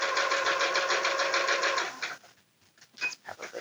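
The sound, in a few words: sewing machine sewing a pocket onto an apron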